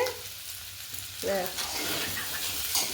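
A large batch of potatoes fries in a pan for aloo dum, a soft, even sizzle in the background with a brief murmur of voice partway through.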